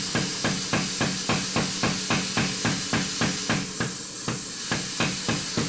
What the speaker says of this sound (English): here he's forging down the belly part of it, getting it as close to sharp as possible using the power hammer